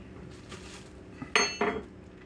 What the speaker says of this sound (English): Get this spoon out of the way.